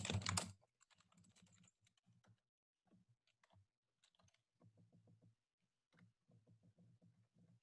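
Typing on a computer keyboard, with a loud burst of clatter at the start and then steady bursts of key presses in uneven rhythm, close and clear with no talking.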